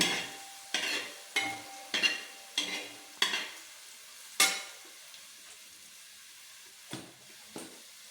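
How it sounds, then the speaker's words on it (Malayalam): Bitter gourd frying in hot oil for a curry, stirred with a utensil: a steady sizzle punctuated by about eight regular scraping stir strokes against the pan, close and clear with no talking. "എണ്ണക്കകത്ത് കിടന്ന് എല്ലാം മൊരിഞ്ഞ് വന്നിട്ടുണ്ട്."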